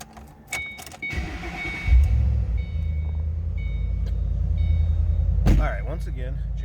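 A 2007 Ford Mustang Roush Stage 3 convertible with a 5-speed manual cranks and starts after a few warning chimes, then settles into a deep, close, steady idle rumble with one short rev partway through.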